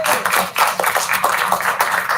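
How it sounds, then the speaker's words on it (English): Short burst of audience clapping at a school board of education meeting, a handful of hands beating in a quick, fairly loud patter that lasts only a couple of seconds. "You can clap for that."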